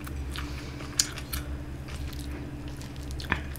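Soft, close-up chewing of kimchi fried rice during a mukbang, with quiet wet mouth sounds and a couple of brief sharper clicks, no talking.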